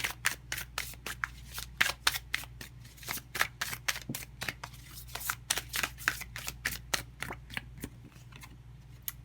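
Tarot cards being shuffled in a steady run of quick, crisp riffles and snaps, close and fairly quiet, a dense rhythmic flutter with no talking.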